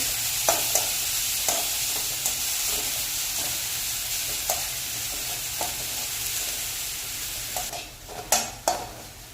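Bread fries in a pan over a medium flame, giving a continuous loud sizzle broken by regular scrapes and taps of a utensil stirring against the pan, with a few sharper clanks near the end.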